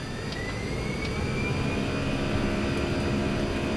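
An Airbus A319's jet engines spool up for takeoff, heard from the cockpit as a steady loud roar with a thin whine rising slowly in pitch.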